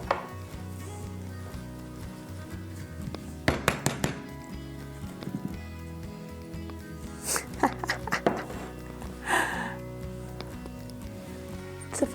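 A knife scrapes and clinks around the inside of a mug holding microwave keto bread, with scattered metallic taps and scraping bursts over a low background hum, no voices.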